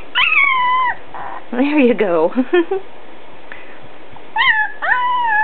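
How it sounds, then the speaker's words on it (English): A one-week-old Alaskan Malamute puppy lets out several thin, rising and falling howls close by, breaking into yips and whimpers between them, while a person speaks briefly and softly. "Someone's finding their howl."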